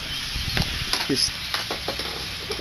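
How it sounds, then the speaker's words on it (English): A large flock of birds crowded into a tree outside makes a dense, continuous chatter of overlapping calls with a few sharper chirps. A voice speaks briefly over it. "There are a ton of freaking birds up in that one tree."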